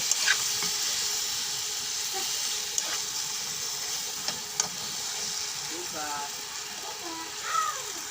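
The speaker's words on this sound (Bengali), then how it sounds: "আমি আমগুলো একটু হালকা একটু নেড়ে চেড়ে নিয়েছি তেলের সাথে।" Mango pieces coated with salt and turmeric are stirred in hot oil, giving a steady sizzling hiss throughout with a few soft scrapes and clinks of the spoon, close by.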